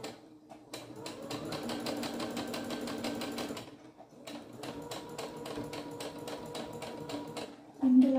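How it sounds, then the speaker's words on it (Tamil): A sewing machine runs a lock stitch while altering palazzo pants and tops. Two steady bursts of fast rhythmic needle clatter are heard close up, separated by a brief pause, and a thump comes at the end. "இதில் கூட ஒரு டைம் வந்து லாக் ஸ்டிச் மாதிரி போட்டுக்கோங்க"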